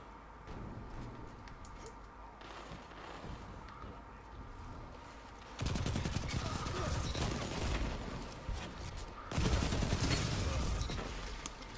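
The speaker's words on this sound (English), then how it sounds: "using two submachine guns at the same time really makes you miss normal weapons." Dual submachine guns fire in the video game Destiny 2, rapid automatic bursts that erupt loudly in two long stretches after quieter background game sounds.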